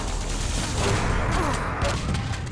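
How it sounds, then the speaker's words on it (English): Rapid shotgun blasts and other weapon fire crackle in a dense, loud, continuous barrage during a Quake Live team deathmatch between Russia and Italy. "Great shotgun work from Pavel there."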